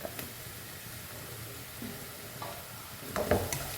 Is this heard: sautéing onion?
yes